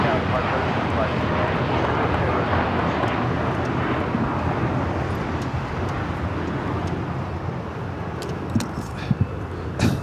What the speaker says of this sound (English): American Airlines Flight 27 taking off to Tokyo Haneda on the